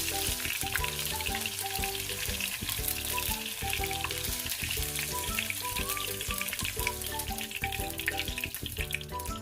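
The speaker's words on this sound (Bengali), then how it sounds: "সর্ষের তেল দিয়ে দিলাম। প্রথমে দেব টমেটোগুলো দিয়ে একটু নেড়ে চেড়ে তুলে রাখবো।" Tomatoes fry in hot mustard oil in a wok, a loud close crackling sizzle that runs continuously with occasional stirring clatter.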